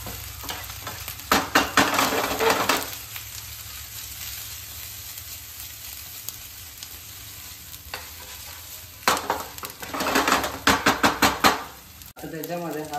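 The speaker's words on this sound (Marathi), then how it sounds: "हाय फ्लेमवरती करायचं आहे, तिथं ऑनियन पटापट गोल्डन ब्राऊन होऊन जाणार." Onions sautéing in a pan over a high flame for restaurant-style paneer butter masala: a steady hiss and sizzle throughout, with loud bursts of stirring and scraping near the start and again toward the end.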